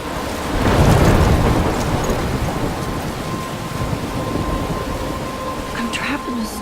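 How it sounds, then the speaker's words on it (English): Thunderstorm with heavy rain in the video game Life is Strange: a loud rumble of thunder rolls in early and fades, over steady, dense rainfall that continues throughout. "I'm trapped in a storm?"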